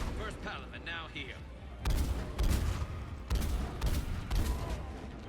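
Sniper rifle fire in the Mass Effect 3 video game lands as several heavy booming shots, each with a ringing tail, preceded by a brief voice.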